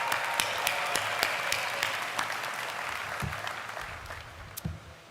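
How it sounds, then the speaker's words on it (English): An audience at a university commencement ceremony for business and education graduates claps in a steady, fairly distant round of applause, with a few sharper claps standing out near the end. "Round of applause for y'all."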